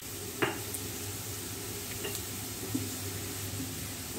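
Chopped onion frying in a pan with a steady low sizzle, a few soft stirring clinks and scrapes against the pot, no talk.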